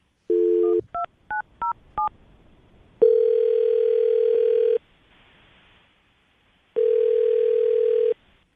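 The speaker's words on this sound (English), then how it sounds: "I'm going to dial the number." A telephone keypad beeps out a number in a quick run of short dual tones, then two long steady ringback tones sound with a pause between them, clear and close during a morning radio show call.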